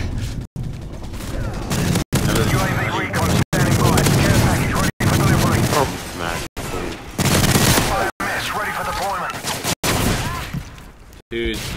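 Rapid bursts of dual machine pistol fire from a multiplayer first-person shooter match, loud and dense, broken by brief gaps, with game announcer lines and players talking underneath.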